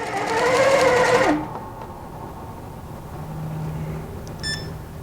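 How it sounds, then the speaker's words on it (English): Long arm quilting sewing machine running a few straight-line stitches along a ruler: a loud, rapid mechanical whir lasts just over a second, then stops and leaves a quiet room with a faint beep near the end. "I'm going to hit my start button, run a couple stitches in my straight line."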